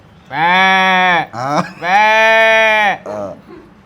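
A human voice imitates sheep bleating, two long wavering baa calls close up, each followed by a brief lower vocal sound.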